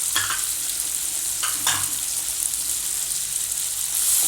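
Turmeric, coriander, chili and garam masala powders stirred into softened tomatoes frying for a spicy baby potato masala, a steady close hiss of sizzling oil with a few brief stirring scrapes.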